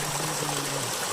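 A mountain stream flows near a trekking campsite on the Brahmatal trek, a steady broadband rush of water that stays constant throughout with a faint low hum underneath.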